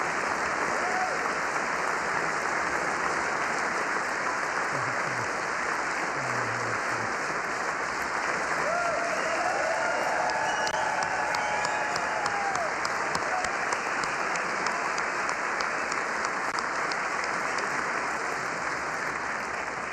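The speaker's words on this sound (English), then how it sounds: "How many claps we at?" A large audience at a political speech applauds loudly and without a break, a dense, steady roar of clapping that holds its level the whole time.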